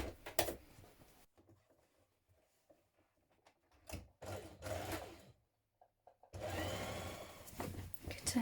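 A sewing machine stitches down the corners of a fabric storage box in a few short bursts, quiet near-field whirring runs separated by pauses, with a longer run at the end.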